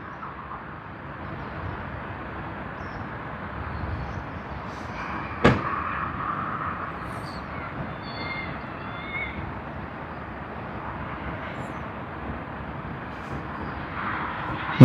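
A 19-year-old QantasLink Embraer E190AR on the Canberra to Sydney service rumbles at Sydney Airport, a steady, distant jet roar with one sharp knock partway through.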